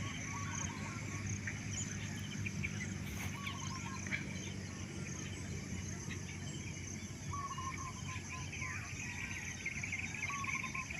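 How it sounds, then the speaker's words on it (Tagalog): Many birds calling together outdoors, a steady chorus of chirps and trills over constant insect buzz and a low rumbling background. "maraming huni ng ibon ba, maririnig mo"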